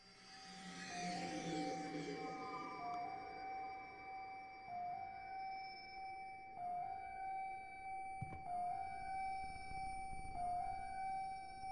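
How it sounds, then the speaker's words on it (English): Ambulance sirens wail in the video game Reveil, a repeating two-tone electronic siren cycling steadily at a moderate distance over a low ambient hum, with a brief clank midway. "Sirens? Ambulance?"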